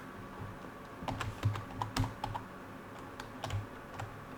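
Computer keyboard typing in a quiet room, with irregular bursts of clicking keystrokes that come and go, sounding close and alone with no talking.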